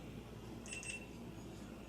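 A GoPro camera switching on, giving two short, high electronic beeps close together in the middle, faint over a steady low background hum.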